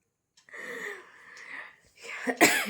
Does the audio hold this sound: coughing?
yes